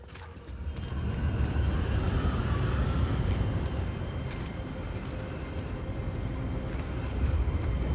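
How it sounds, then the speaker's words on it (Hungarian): Wind rushes through a Hogwarts Legacy game scene as a steady, loud, broadband roar that swells slightly toward the end and holds for the whole stretch. "Hú, a szél."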